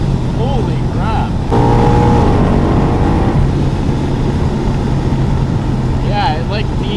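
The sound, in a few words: 700 whp procharged Mustang doing a hard pull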